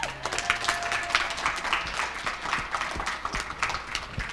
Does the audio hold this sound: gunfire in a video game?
no